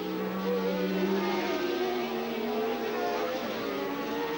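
Formula 1 car at the 1981 Dutch Grand Prix, its engine droning loud and steady as it comes through to complete a lap, with a commentator speaking over it.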